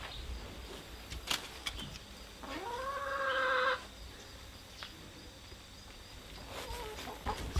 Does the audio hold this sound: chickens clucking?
yes